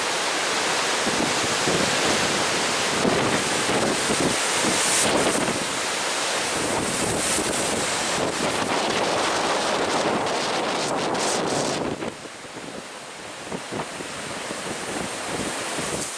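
Waves surge and break steadily on a rocky Lake Superior-style shore at Pictured Rocks, Michigan, with strong gusting wind roaring across the microphone; a loud, continuous wash that eases slightly near the end.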